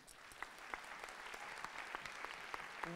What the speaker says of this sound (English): let's give a big applause to Nagalakshmi.